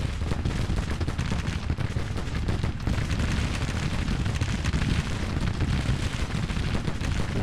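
Continuous, loud barrage of gunfire and artillery fire rolls without pause through a Grand Tactician video game battle, rifles and cannon blending into a dense, rumbling din with no clear gaps.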